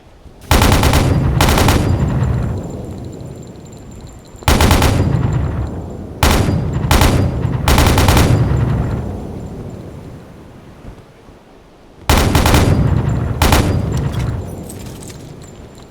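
A flak gun on a submarine deck in UBoat fires in loud repeated bursts, each a rapid string of heavy booming shots with rumbling tails, separated by short pauses.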